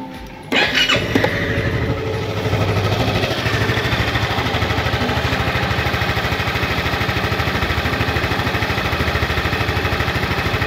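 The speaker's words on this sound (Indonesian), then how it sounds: "Nah ini suaranya cukup halus sekali untuk ukuran motor dengan kapasitas 250 cc ya" A Honda Forza 250 scooter with a 250 cc engine cranks and fires, then settles into a steady, smooth, even idle that runs close and alone for about ten seconds.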